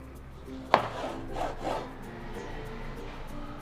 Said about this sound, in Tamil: இந்த மாதிரி நீளமாக கட் பண்ண போகிறேன்